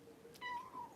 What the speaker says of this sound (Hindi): म्याऊं म्याऊं कहती है